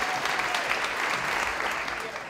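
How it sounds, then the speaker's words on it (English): Steady, dense applause from a live audience at a local Dancing With The Stars dance show, filling the room evenly and continuing without pause. "Another big round of applause for Eric and Heather."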